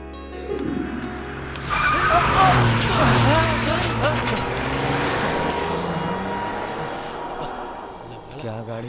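A car passes close by with tires squealing and skidding under a steady engine roar, with voices talking over it.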